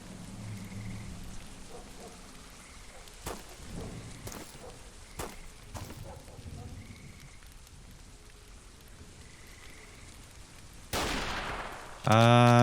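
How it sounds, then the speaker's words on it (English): A hunting or sniper rifle fires in STALKER Anomaly's Great Swamps: a few sharp, distant cracks stand out over a steady wash of rain-like swamp ambience, ending with a louder close burst of noise. "Sounds like a hunting rifle or something, like a sniper rifle"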